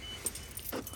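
Keys on the fob of a 2000 Toyota Camry LE V6 jangle in a brief, quiet metallic clink and rattle, with a couple of small bright chimes over faint background hum.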